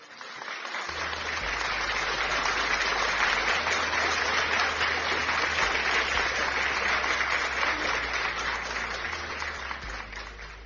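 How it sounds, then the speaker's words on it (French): Steady, dense applause from a congregation at a prayer service, rising quickly and holding loud and unbroken for about ten seconds with a low hum underneath. "Ma sœur, mon frère, applaudis pour le Saint-Esprit."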